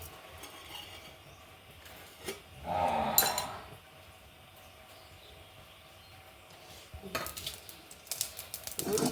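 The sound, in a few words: mustard seeds spluttering in virgin coconut oil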